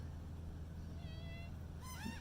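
A house cat gives a couple of thin, rising meows over a steady low hum in a quiet room, soft and fairly close.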